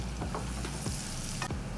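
A pot of butternut squash, sweet potato and lentil soup with ginger is stirred, giving a close, steady hiss with a few scraping strokes and a brief brighter burst near the end.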